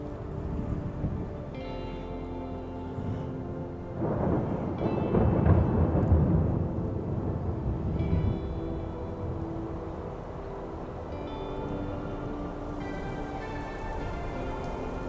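A mountain thunderstorm in Switzerland with heavy rain pouring down steadily, deep thunder rumbling in a swell near the middle before easing back, a few faint tonal sounds drifting over the downpour.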